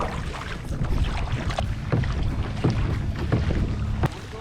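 Kayak moving through shallow water in Biscayne Bay near downtown Miami, with soft splashes and drips recurring every second or so over steady wind and water noise.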